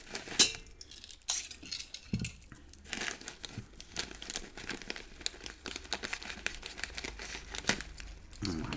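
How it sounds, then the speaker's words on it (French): A sachet of salt is torn open up close, giving quiet crinkling and tearing of the packet with a few faint clinks, and no talking. "Alors, on va tout d'abord ouvrir notre sachet."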